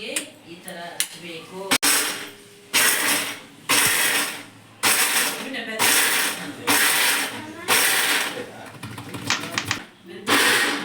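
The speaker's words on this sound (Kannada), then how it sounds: "ಇದನ್ನೆಲ್ಲ ಮಿಕ್ಸಿಗೆ ಹಾಕೋಬೇಕು ಗೈಸ್." A kitchen mixer grinder coarsely grinds garlic, chillies and seeds, whirring in about eight loud, repeated bursts separated by brief pauses, with clicks and mechanical clatter between them.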